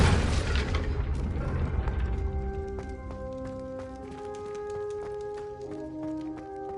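Confringo explosive spell blast in a Hogwarts game, a loud booming burst at the start fading into ringing, chiming magical tones that linger and decay.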